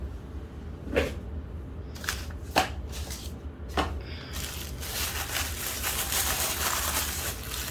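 A paper bag holding a Logitech MX Vertical wireless mouse crinkles and rustles as it is unpacked, with a few sharp crackles followed by steady, close rustling and no talking.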